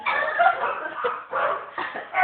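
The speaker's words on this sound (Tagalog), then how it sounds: "Yung mga aso, ang ingay." Several dogs barking and yipping together close by, a continuous noisy overlapping chorus with a few whiny, higher yelps.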